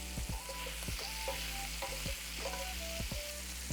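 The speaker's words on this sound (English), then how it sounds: "As you can see, we're starting to develop a nice crisp on the meatballs." Meatballs crisping in a steel pan over medium-low heat, a steady close sizzle broken by several sharp clacks as they are turned, with faint tonal beeps in the background.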